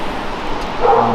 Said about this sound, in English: Sorry for my dogs, they're crazy.